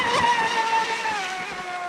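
A Traxxas Spartan RC speedboat fitted with new profile props runs at speed on the water, its electric motor giving a high, steady whine that slowly dips in pitch as it passes, loud and continuous.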